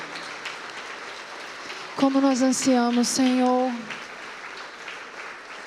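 A church congregation applauds during Sunday night worship, with continuous moderate clapping under a voice that sings and prays, strongest in the middle.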